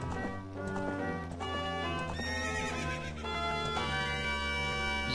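A horse gallops in the video game The Legend of Zelda: Ocarina of Time. Hoofbeats clop steadily under a bright neigh, with continuous game music playing throughout.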